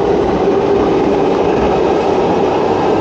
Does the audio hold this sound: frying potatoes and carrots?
no